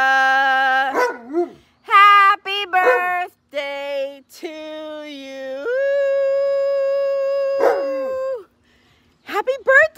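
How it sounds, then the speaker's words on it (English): Alaskan malamute howling at a birthday party: long, loud, close howls broken by yips and whimpers, rising and sliding in pitch, with several separate bursts and short pauses between them. "Where's our birthday howl?"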